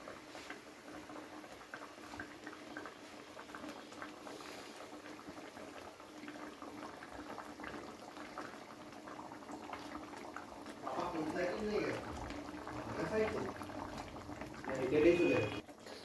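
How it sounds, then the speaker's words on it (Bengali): Rohu fish curry broth bubbles at a low boil in a pan, a soft, constant simmer that grows a little livelier toward the end, with a person talking quietly alongside. "তো ঝোলটা কিন্তু ফুটে উঠেছে"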